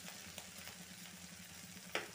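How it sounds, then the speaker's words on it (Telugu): Potatoes frying in a pan hiss in a soft, steady sizzle while being stirred, with a few faint scrapes and a small clink near the end. "ఆల్మోస్ట్ కొంచెం ఆలుగడ్డ అనేది ఫ్రై అయిపోయింది"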